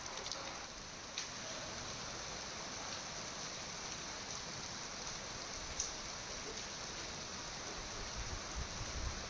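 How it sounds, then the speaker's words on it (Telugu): Heavy rain falls over Hyderabad during a thunderstorm, giving a steady, even hiss of downpour on surfaces with a few faint drips and taps, fairly quiet and unbroken, with no voices. "పలు ప్రాంతాల్లో ఉరుములతో కూడిన వర్షం పడుతోంది"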